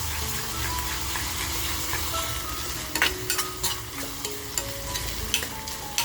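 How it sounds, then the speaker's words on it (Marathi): Onions sizzle and fry in a pan with chilli and garlic for a spicy Maharashtrian karandi (dried shrimp) masala, a steady sizzle broken by sharp scraping stirs of the spoon in the second half, close and alone. "कांदा बघा आपल्याला सोनेरी करायचा नाही आहे, पण छान असा फ्राय करून घ्यायचा आहे."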